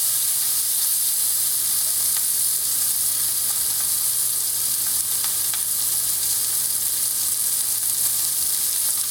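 Sausage pieces browning in a hot pan, a loud unbroken hiss of frying fat with faint crackles, steady and close for the whole stretch, no speech.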